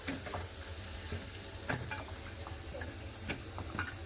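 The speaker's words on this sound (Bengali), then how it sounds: "হলুদ গুঁড়ো লঙ্কা গুঁড়ো একটু এবার শুকনো ভালো করে মিশিয়ে নেব" A spoon stirs turmeric and chilli powder into dry gram flour, giving close, soft scraping strokes with small irregular clicks for about four seconds, with no talking.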